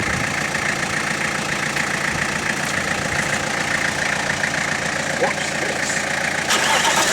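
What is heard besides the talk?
diesel engine cold starting and idling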